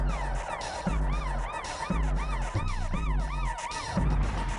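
A police siren wails steadily, rising and falling in repeated sweeps, over low engine and road rumble.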